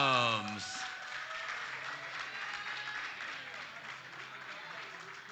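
Steady audience applause at a powerlifting medal ceremony during the 2023 NAPF Regional Championship in the Cayman Islands, sustained clapping from a crowd in a hall, starting as an announcer's voice ends and continuing evenly.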